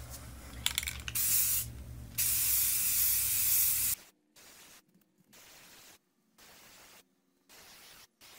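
Aerosol spray paint hisses in long bursts over plastic IPF light covers, a steady loud spray for several seconds, then a series of shorter, fainter on-off bursts with gaps between them.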